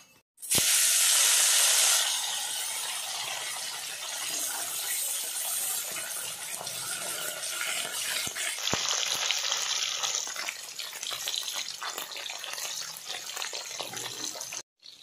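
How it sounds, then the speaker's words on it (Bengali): Fish, coated in salt and turmeric, goes into hot oil in a smoking wok with a loud burst of hissing, then settles into a steady, dense sizzle that runs on without pause. "মাছ ভাজাতে চাপিয়ে দিচ্ছি"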